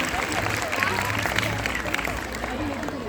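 Crowd applause at a school's annual day celebration, a steady wash of clapping from a large audience with murmuring voices and amplified hall ambience mixed underneath.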